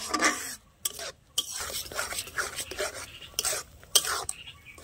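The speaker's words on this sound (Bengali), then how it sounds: "এইভাবে নেড়ে চেড়ে জলটা শুকিয়ে নিতে হবে সুজির।" Semolina stirred in a pan to cook off its water, a steady scraping and stirring with faint utensil clinks, near and continuous with a few brief pauses, no talking.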